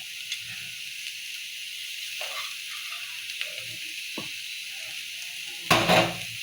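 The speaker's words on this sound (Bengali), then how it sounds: "তো ধনেপাতাটা দিয়ে আমি কতক্ষণ নাড়াচাড়া দিব, তারপরে আমার আলু ভাজিটা হয়ে যাবে" Steady sizzle and hiss of fried potato bhaji in a pan as coriander leaves are stirred in, with soft utensil scrapes and clicks and a louder scraping stir near the end.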